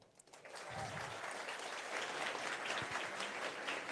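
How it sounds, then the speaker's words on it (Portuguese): A meetup audience at a Nubank engineering event claps for a speaker, the applause swelling in after a quiet start and continuing as a full, even roar of many hands. "Uma salva de palmas para a Letícia."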